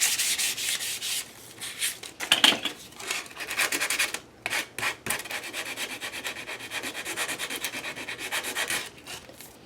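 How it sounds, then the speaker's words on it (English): Sandpaper rubbed over the glossy pages of a board book to dull the shine, heard as loud, close, continuous rasping strokes in quick back-and-forth rhythm with a few brief pauses and no talk. "I am going to sand the pages that we are going to play on"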